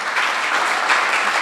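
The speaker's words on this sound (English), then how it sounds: "we ought to have a standing round of applause for the spouses of many of these people" Audience at a society's 50th anniversary celebration breaking into a standing round of applause, steady dense clapping filling the room without pause.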